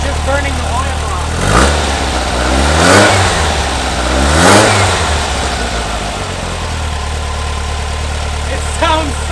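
Freshly installed engine in a 1970 VW bus runs at a steady idle, then revs up and falls back three times in rising-and-falling swells, with one more short blip near the end, close and loud, with voices now and then.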